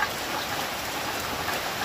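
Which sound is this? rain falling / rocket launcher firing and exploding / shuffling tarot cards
rain falling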